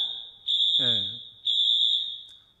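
A fire alarm sounds during a church sermon: a steady high-pitched electronic tone in two long bursts with brief gaps, loud and close, while a voice speaks briefly over it.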